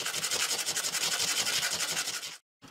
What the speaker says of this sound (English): I will rectify it, sanding it on this sandpaper for metal until it fits perfect